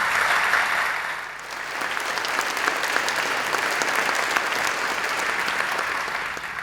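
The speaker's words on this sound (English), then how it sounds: "Please give her another round of applause." Warm, steady applause from the audience at the 2019 UNHCR Nansen Refugee Award ceremony, filling the hall evenly for several seconds.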